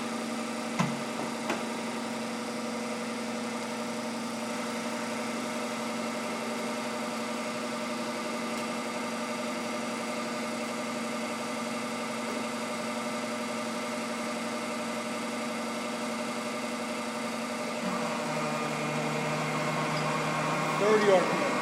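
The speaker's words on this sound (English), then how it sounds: "It's attempting to shift it to the low range." A large Binns & Berry CNC lathe spindle runs with a steady mechanical hum and tonal whine, and the pitch and texture shift near the end as it changes to the low range.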